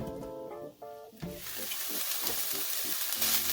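Vegetables frying and cooking down in an olive oil pan, a steady close sizzle that swells louder after a few soft stirring knocks.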